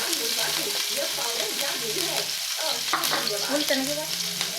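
Green chillies fry in hot oil in a kadai, giving a loud, close, continuous sizzle with crackly bursts, while stirring scrapes and a voice talking come through underneath.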